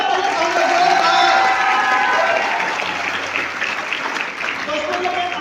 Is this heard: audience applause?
yes